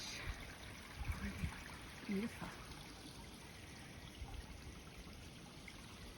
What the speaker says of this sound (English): this little creek is going along and falling off the edge